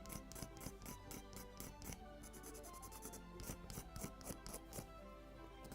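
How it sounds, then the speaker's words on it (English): A scraper runs over glued wooden bulkheads of a 1:76 scale Mayflower ship model kit, giving quiet, close, rapid rasping strokes in rhythmic bursts with short pauses between them. "And I can start with the scraper."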